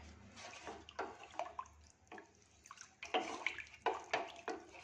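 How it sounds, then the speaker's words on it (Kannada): Water with a spoonful of flour mixed in boils in a pot for making pressed rice noodles, giving quiet, irregular bubbling and gurgling bursts that grow a little livelier toward the end. "ನೋಡಿ, ಈ ರೀತಿ ಕುದಿ ಬರಬೇಕು ನೀರು"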